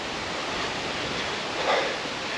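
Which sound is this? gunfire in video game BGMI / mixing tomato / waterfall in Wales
waterfall in Wales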